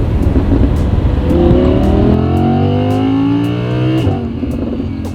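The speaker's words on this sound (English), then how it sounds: "you get a little bit more exhaust note" An Audi R8 sports car's exhaust growls and rises through the revs, its rumbling note climbing in pitch before dropping back, loud and close with no talk.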